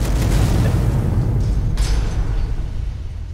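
A gas vent fire explosion in Skyrim: a loud, continuous low rumbling roar that holds steady across the clip, with a brief brighter burst near the middle before it slowly eases off, no voices.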